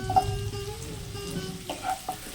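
Onions frying in a pan, a steady soft sizzle with occasional stirring scrapes, close and moderately loud with no talking.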